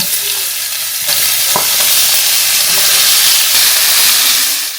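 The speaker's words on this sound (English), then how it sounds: "In a skillet, I heated a 1/4 cup of vegetable oil over medium heat, then added the potatoes and the onion." Cubed russet potatoes and onion frying in vegetable oil in a skillet over medium heat, giving a loud, steady, dense sizzle and hiss with faint stirring scrapes, close up and without speech.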